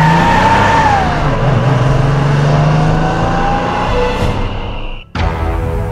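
A Jaguar car's engine revs loudly and close, its steady roar drifting up and down in pitch before cutting out abruptly near the end.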